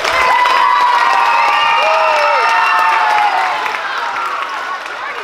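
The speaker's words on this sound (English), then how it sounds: "Let's give them a round of applause." A school audience in a chapel greets a visiting children's choir with loud clapping and cheering, children's voices shouting over the applause before it eases off toward the end.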